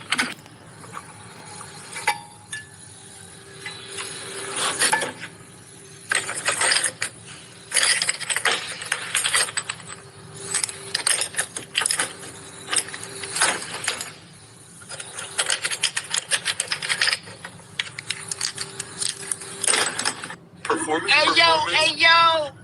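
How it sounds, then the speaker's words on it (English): A car differential is turned by hand, giving bursts of rapid mechanical clicking and ratcheting gear noise in irregular runs, fairly close, with brief pauses between. "can we just check the diff? It's making a noise."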